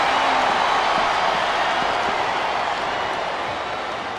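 Steady crowd cheering and applause in the wrestling video game Smackdown vs RAW 2007, a dense, continuous roar of the arena audience that holds loud throughout and eases slightly toward the end.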